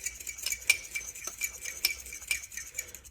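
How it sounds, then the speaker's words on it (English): One large egg beaten in a bowl with a fork or whisk, a quick irregular run of light clinks and taps against the bowl's side, close and fairly quiet. "I have 1 large egg that I'm going to beat here"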